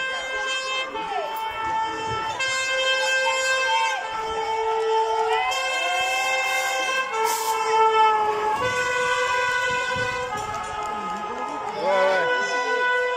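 Loud blaring klaxon horn tones sound repeatedly at a soapbox race, long honks overlapping with siren-like wails, amid a noisy outdoor scene with voices.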